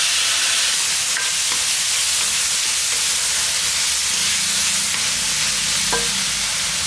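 Chopped tomatoes sizzle and hiss steadily in an oiled pan while cooking for banana stem sambar, a dense continuous fry with occasional faint clinks of stirring.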